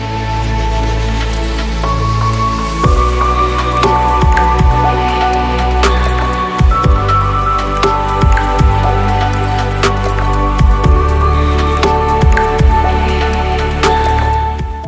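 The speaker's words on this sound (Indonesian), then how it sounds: "Baru aja jalan sekitar 5 menitan, hujan pun turun di sini." Rain begins falling on a motorcycle ride through hilly country roads, a steady wash of drops with scattered sharper taps and drips close by, under a constant low engine hum.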